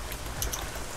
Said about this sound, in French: Vous voulez mettre la pluie, hop, il pleut.